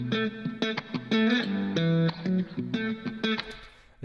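Electric guitar chords ring out through an RC Retro Color plugin's wobble setting, with a slightly warbling, uneven lo-fi wobble and some reverb, steady and up close with no talking.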